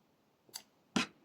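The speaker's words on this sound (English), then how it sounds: "So now it is secured and I will cut it away." Two quick, close snips of scissors cutting crochet yarn, the second louder and sharper than the first, against a quiet background without speech.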